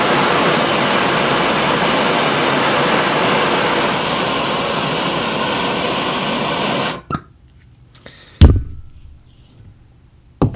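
Butane burning in oxygen in a chemistry demonstration: a loud, steady roaring rush of combustion for about seven seconds that cuts off abruptly, followed by quiet with a couple of sharp knocks.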